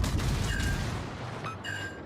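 Torpedo hits on a warship in a naval battle video game, heard as a dense rumbling barrage of explosive impacts that rolls on continuously for the whole stretch and is loud and close.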